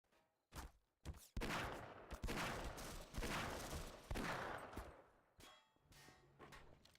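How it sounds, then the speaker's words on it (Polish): Bursts of rapid gunfire in the video game Half-Life, with sharp cracks and clanging impacts, several volleys separated by brief pauses, fairly quiet overall. "Rzeczywiście strzał."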